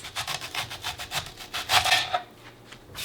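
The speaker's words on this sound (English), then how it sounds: "I peel and cut the onion into thick slices." An onion is peeled and cut into thick slices for slow-roast Greek lamb, making a steady run of close, rhythmic rasping and scraping strokes that pause briefly near the end.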